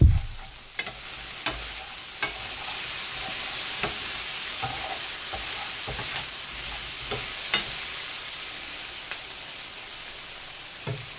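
Potatoes and onion fry in chicken grease in a pan, a loud, even sizzle broken by several sharp clicks from a spoon stirring and scraping.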